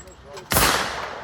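A Beretta A300 Sporting 12 gauge shotgun fires a single loud, close blast at a shooting range, the sharp report followed by a short decaying echo.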